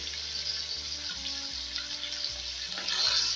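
Chicken sizzles in a pot as it is fried with yogurt, a steady close hiss with light stirring throughout, and a faint low hum underneath.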